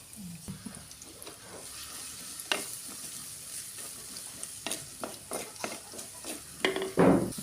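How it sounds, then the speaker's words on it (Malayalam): Onions sizzle and crackle in hot coconut oil in a pan, with intermittent stirring scrapes and clatters growing louder toward the end. "ഞാൻ ചട്ടിയിൽ വെളിച്ചെണ്ണ ഒഴിച്ചിട്ടുണ്ട് ഇതിലേക്ക് നമുക്ക് നമ്മളെ സവാള ഇട്ട് കൊടുക്കാം"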